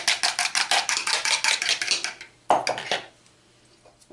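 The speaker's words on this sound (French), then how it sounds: "On vient le fouetter." A whisk rattles fast against a bowl as an egg is beaten, a dense run of quick rhythmic clicks for over two seconds, then a short second burst before it stops, close and fairly loud.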